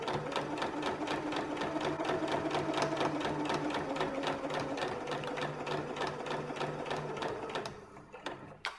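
A sewing machine stitches fabric for a hat crown, running continuously in an even, rapid, close rattle of needle strokes for several seconds before slowing and stopping.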